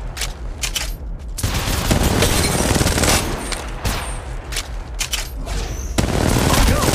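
Dense, continuous gunfire from an Apex Legends ranked match fills the whole stretch, with rapid bursts and heavy booming shots layered together.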